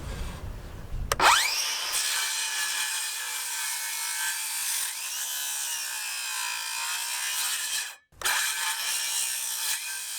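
A 6.5 inch circular saw cuts into a 6x6 wooden post outdoors, a loud, close, sustained high whine and rasp that drops out briefly near the end and then resumes.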